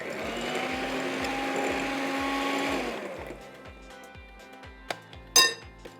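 Burger mixture being mixed in a bowl with a motor whirring loud and steady for about three seconds before cutting off, followed by a few sparse light clinks and taps of utensils.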